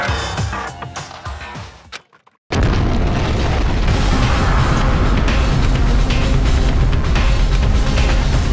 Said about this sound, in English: These amazing fireworks surely befit the beginning of the end!